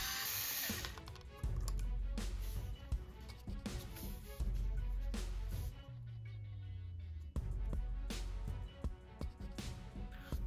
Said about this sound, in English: we'll need to remove 2 screws to take off the plastic cover.